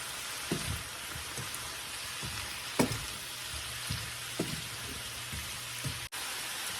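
Chicken and mushrooms fry in a pan with a soft, steady sizzle, broken by occasional pops and light clinks of stirring, fairly quiet and close.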